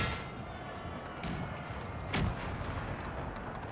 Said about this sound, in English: It's cannons.